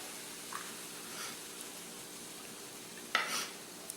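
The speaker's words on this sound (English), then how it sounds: "I'm just going to give that a stir just to see what it's kind of looking like" Egg roll filling being stirred after soy sauce and sweet and sour sauce go in, a faint, quiet scrape with soft sizzle-like hiss and a sharper clatter near the end, no talking.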